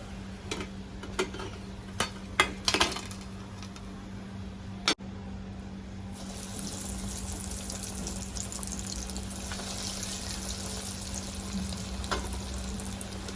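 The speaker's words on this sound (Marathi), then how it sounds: "बाकीचे राहिलेले बॉल्स पण मी एक एक करून तळून घेते" Cheese corn balls deep frying in hot oil, a steady broad sizzle running throughout with a few brief clinks of a utensil near the start and the bubbling growing brighter partway through.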